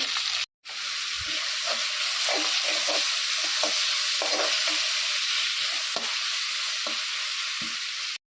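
Onions frying in a pan with a steady, loud broadband sizzle throughout, broken by repeated scraping stirs and a brief cut near the start; no talking.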